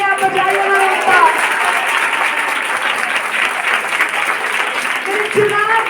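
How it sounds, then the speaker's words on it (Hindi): A church congregation at a ladies' seminar in Delhi breaks into loud, sustained applause, dense clapping filling the room with some voices and shouts mixed in. "जोर से ताली परमेश्वर के लिए आप बजाइए ना एक बार"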